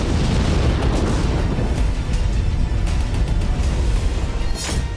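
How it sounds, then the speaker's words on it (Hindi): A sustained, loud, broadband roar fills the whole stretch, like a van bomb exploding between two buses and its rumbling aftermath, with no voices present. "और तभी धमाका हो गया।"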